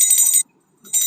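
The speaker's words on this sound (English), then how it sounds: "I ring the bell." A hand bell rings loudly and brightly for about 0.4 seconds. It falls silent briefly, then rings again.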